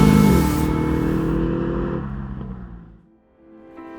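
A 2021 Aston Martin DBX SUV drives by with a loud engine note and tyre roar that fades away into near silence before a faint sound returns at the end.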